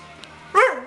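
A dog gives a single loud bark near the end of a short, otherwise quiet moment indoors.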